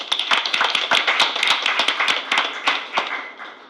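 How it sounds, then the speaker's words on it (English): Applause for a school's cross-country team at a board of education meeting, made of sparse, distinct individual claps from a small audience that run steadily for several seconds without speech. "Let's give a big round of applause to our amazing Cougars"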